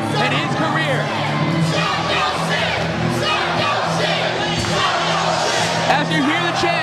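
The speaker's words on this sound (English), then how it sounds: "As you hear the chant of Psycho Sid go out through the crowd" A wrestling crowd at a PWU Iron & Steel event chants Psycho Sid's name, a dense, steady roar of many voices with shouts and whoops throughout, loud and continuous.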